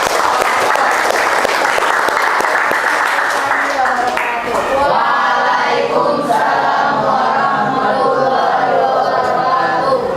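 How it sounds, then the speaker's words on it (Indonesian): Loud applause from a group in a classroom session for teacher-training students in Jakarta, dense clapping for the first presenting group that thins into scattered claps with murmuring voices and chatter after a few seconds. "kita tepuk tangan untuk kelompok 1"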